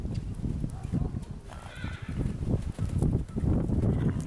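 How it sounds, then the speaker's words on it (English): A horse moves off into a canter, rhythmic hoofbeats thudding close on soft ground, with a brief whinny-like call in the middle. "Oh, that was a nice canter departure."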